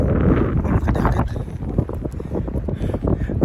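Strong, cold wind blows outdoors, buffeting the microphone in a continuous low roar with gusty surges throughout.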